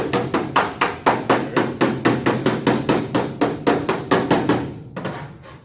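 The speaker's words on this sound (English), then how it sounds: "You hear the pitch change when I hit that dolly" A hammer strikes sheet metal against a dolly on an Econoline van body in a fast, steady run of about twenty ringing blows, close and loud, the pitch shifting slightly before it stops.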